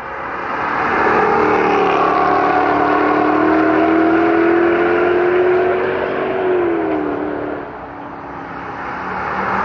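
A big Jaguar saloon accelerates through a corner at a Mission Raceway track day, its engine note loud and close, rising steadily for several seconds before easing off near the end.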